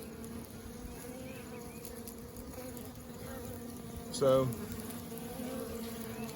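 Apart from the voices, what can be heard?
swarm of wild bees buzzing at a cedar tree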